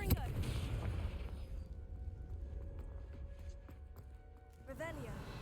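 A Confringo fire blast spell cast in the Hogwarts Legacy video game erupts in a loud, crackling burst with a booming low rumble that fades, then a second smaller whoosh flares near the end.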